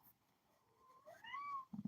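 A cat gives a single close meow that rises and then falls, heard alone over faint room background, with a brief thump right at the end.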